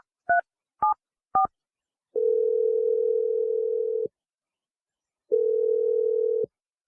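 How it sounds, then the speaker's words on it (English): Three short two-tone keypad beeps of a telephone being dialed, followed by two long steady ringback tones separated by a pause, clear and alone with no talking. "I'm going to dial her number right now."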